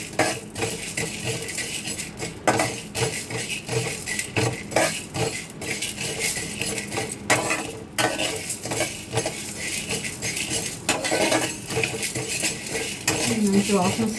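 Lentils dry-roasting in a pan on low heat for curry leaf powder, a spoon scraping and clinking against the metal pan in steady strokes over a continuous hiss, close and prolonged.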